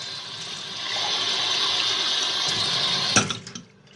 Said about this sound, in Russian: наливаю туда воду.